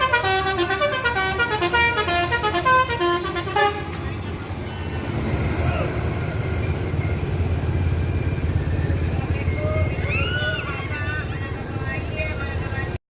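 A limited-edition Amsterdam-liveried coach arriving sounds a loud musical horn in a quick repeating pattern of toots for several seconds, followed by the low rumble of its engine and surrounding traffic.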